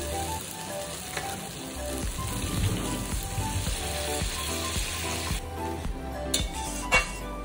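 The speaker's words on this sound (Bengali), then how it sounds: "এখন এটাকে মশলার সঙ্গে আমি কিছুক্ষণ কষিয়ে নেব" Paneer tadka sautéing in a pan with spices, a steady close sizzle and frying crackle with scraping, rattling stirring throughout, no voices.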